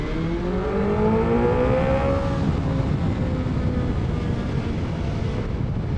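A 2020 BMW S1000XR motorcycle engine pulled hard from about 3,500 RPM, its tone climbing steadily under full throttle amid heavy wind rush, loud and close throughout.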